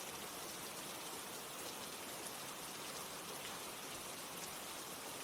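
Steady rain falls in a continuous, even hiss, soft and unbroken, with no voices or other sounds.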